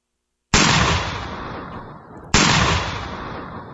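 A person imitates a gunshot twice with the voice, each a sudden loud blast that decays over about a second and a half, the second following close after the first.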